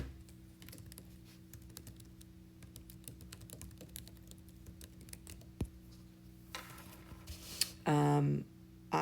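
Light typing on a computer keyboard while filling in a conference review form, soft irregular key taps running throughout, with a brief louder burst of clatter near the end.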